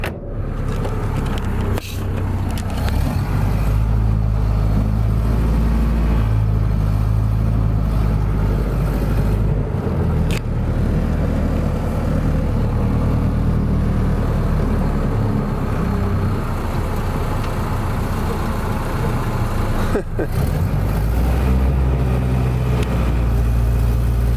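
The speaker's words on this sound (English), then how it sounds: "The inaugural drive of your car." A 1930 Ford Model A pickup, back on the road after sitting since 1986, drives along with its engine running loudly and steadily for the whole stretch, its rumble filling the scene with brief dips and no talking.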